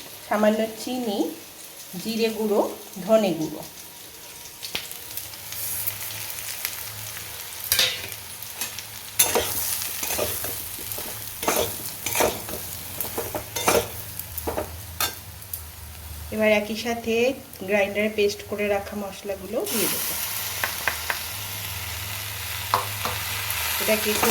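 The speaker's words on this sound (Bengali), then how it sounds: "মশলাটা ভালো করে কষানো হয়ে গেছে" Spices with salt and turmeric are stirred and fried together with soybean chunks in a pan, giving a continuous sizzle broken by repeated scraping stirs of a spatula; brief murmurs of talk are faintly present.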